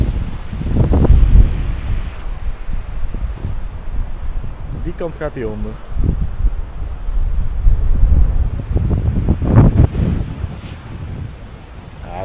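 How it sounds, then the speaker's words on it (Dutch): Gusty wind buffets the microphone in a low rumble throughout, with a person talking over it and brief tonal sounds in the middle. "Er komt misschien weer wat wind."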